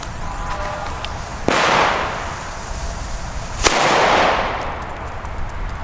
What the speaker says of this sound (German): jetzt den letzten Funke A-Böller